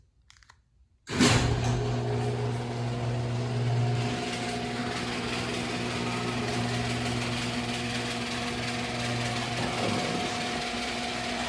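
A garage door opener starts up abruptly and runs steadily with a loud mechanical drone and hum, sustained for about ten seconds.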